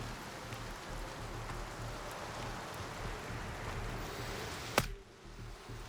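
Heavy rain on a night in the video game Gray Zone Warfare, a steady, dense hiss of falling water throughout. A brief spoken remark comes near the end, followed by a sharp click.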